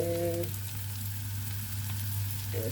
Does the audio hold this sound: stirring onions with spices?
yes